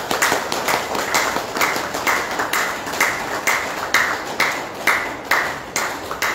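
An audience at an event claps to welcome a speaker, a steady run of individual claps with a rhythmic pulse, fairly loud and close.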